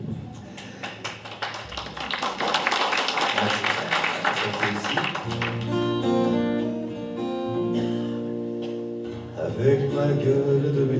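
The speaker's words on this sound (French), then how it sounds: "On peut vous applaudir" Audience clapping at a cabaret humour and song show, a dense burst of applause for several seconds that fades as music with a singing voice takes over.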